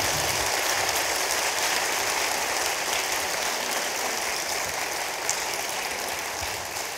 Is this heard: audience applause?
yes